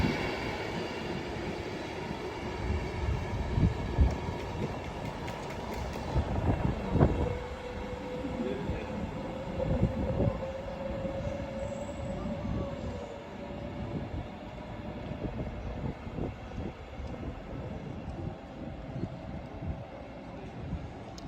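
A Class 390 Pendolino train at Watford Junction on the West Coast Main Line, rumbling steadily through the station with a long, even rolling roar and a faint sustained wheel whine partway through.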